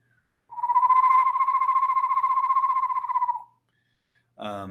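A voice imitates an eastern screech owl with a long, quavering trill held for about three seconds, followed by a brief spoken word.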